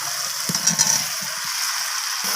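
Fried potatoes dropped into a pan of cooked-down spice paste with the oil separating, giving a steady close sizzle marked by a few soft thumps and clinks near the start.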